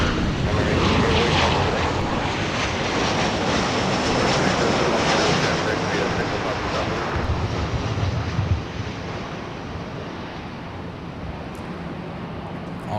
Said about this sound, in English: United coming in with a Star Alliance livery 737. Oh, that touchdown was nice and smooth.